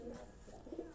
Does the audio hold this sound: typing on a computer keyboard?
no